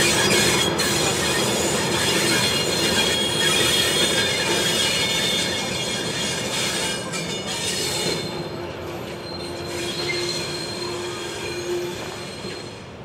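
Heritage train hauled by locomotive 4702 on a rural branch line, wheels squealing loudly on the rails, a sustained metallic screech over steady rumble that runs throughout and eases slightly near the end.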